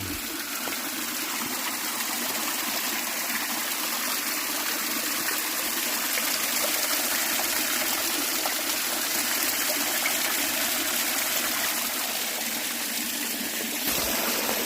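A mountain stream on a Tennessee trail rushes over rocks in a constant, loud, unbroken wash of water with no voices.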